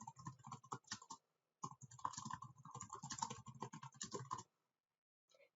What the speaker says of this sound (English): type in the work description here